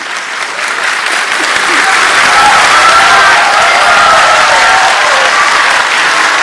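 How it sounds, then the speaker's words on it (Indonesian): Audience applause at a 2014 Indonesian presidential debate, a steady, dense roar of clapping from a large hall crowd that holds strong throughout. "Silakan berikan tepuk tangan."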